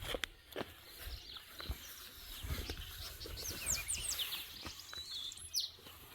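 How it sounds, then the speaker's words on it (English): Birds chirp and tweet outdoors on an evening, their short high calls scattered across the clip and clustering more densely toward the end, heard over faint background noise and occasional light thumps. "as you can hear the birds are chirping."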